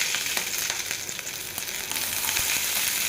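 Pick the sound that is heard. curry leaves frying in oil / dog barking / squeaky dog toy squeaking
curry leaves frying in oil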